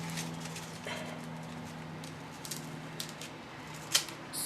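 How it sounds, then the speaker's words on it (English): Scissors snipping the rough edges off a handmade tobacco basket ornament, a few soft crisp cuts spaced out over a steady low hum, with one sharper snip near the end. "I'm just going to cut the rough edges off."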